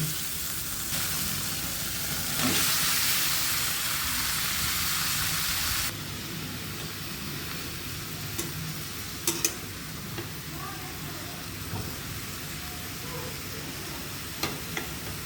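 Bottle gourd and snakehead fish sizzle steadily in a hot pan, a constant frying hiss that rises briefly in the first seconds, with occasional scraping stirs and light clinks over the rest.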